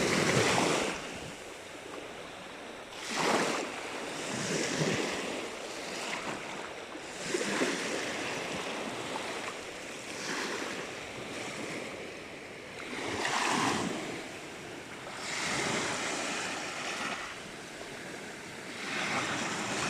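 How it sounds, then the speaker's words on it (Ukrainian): Black Sea waves at Prymorske, Ukraine, surge and wash in repeatedly, broad rushing swells rising and falling every few seconds, with wind noise and no voices. "зараз просто море"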